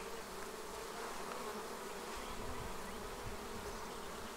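Honey bees hum in a steady, continuous drone around a hive topped with a medium super and an insulated foam cover, with no voices.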